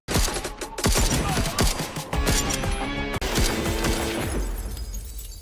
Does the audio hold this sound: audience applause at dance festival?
no